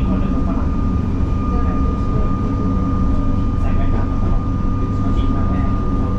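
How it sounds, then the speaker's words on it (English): A Northern Group train pulls into platform 11 at a Melbourne station, a loud continuous low rumble with a steady high whine held throughout, close by, with a voice speaking over it. "This is a Northern Group train"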